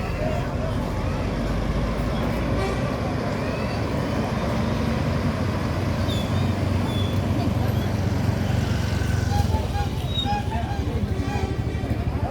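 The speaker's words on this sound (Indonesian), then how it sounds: "Ini dia, Bosku, bus NPM yang baru saja masuk di Terminal Bareh Solok." NPM intercity bus pulling into Terminal Bareh Solok, a steady rumble of engine and traffic noise with station crowd babble throughout, continuous and moderately loud.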